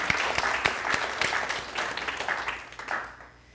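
A church congregation applauds its prayer chaplains during a Sunday service, a fairly faint, steady patter of clapping that gradually thins and fades out.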